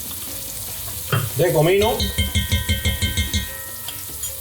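Sofrito for a Cuban chicken ropa vieja sizzles in a pan as it is stirred, with rhythmic scraping strokes and a brief voice near the start over steady frying.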